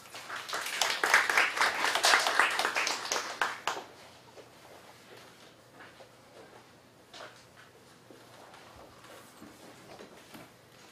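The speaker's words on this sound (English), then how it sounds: "please give a warm round of applause to Mr." A dialogue-series audience applauds Mr. John Tileman at a talk on peaceful use of nuclear energy, with a strong burst of clapping for a few seconds that then thins to scattered claps over a quiet room.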